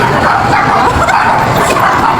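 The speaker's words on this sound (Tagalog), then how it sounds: "May aso." A dog barks repeatedly close by, short yelps mixed with whimpering over a steady background hum, with no clear speech.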